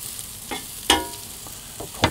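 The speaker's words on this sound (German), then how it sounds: "Also 2 oder 3 Knoblauchzehen dazu. Schön mit anbraten." Quiet sizzle of garlic frying in a pan, with a few sharp bursts of spattering as it is stirred, the loudest crackle near the middle and another at the end.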